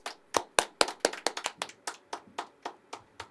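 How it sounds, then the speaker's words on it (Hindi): A small audience at a poetry open mic at The Habitat claps to welcome the poet Tushar: a sparse, uneven run of distinct, close hand claps, some landing together and others alone, with quiet gaps between them. "जोरदार तालियों के साथ"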